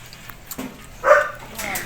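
Puppies give a short high yelp and soft whimpering close by, heard briefly beneath someone speaking.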